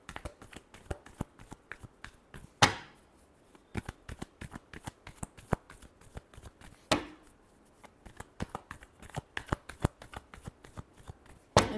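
Tarot cards are shuffled close up in quick riffling flurries with crisp slaps, repeating in bursts across the clip with no talk.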